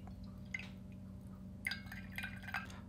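Water trickles and drips while being poured for a pour-over coffee onto a kitchen scale: soft, intermittent splashes with a brief burst early on, then a denser run of drips near the end, fairly quiet and close.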